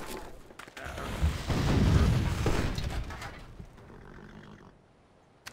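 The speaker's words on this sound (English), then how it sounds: "I'm gonna blow this guy out of the sky with my cannon." A deep cannon boom in a Civilization video game rolls out and swells into a rumbling blast that fades over a few seconds.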